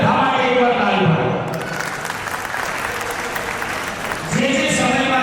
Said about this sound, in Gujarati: એ બધા માટે એકવાર તાળી પાડો